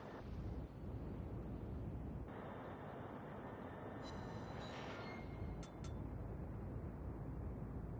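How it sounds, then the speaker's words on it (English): A broadside volley from the battleship New Mexico in the naval combat game World of Warships roars out as a loud, continuous low rumble that swells and shifts over several seconds, overlaid with brief metallic clanks near the end. "I adjust a little and shoot the whole volley."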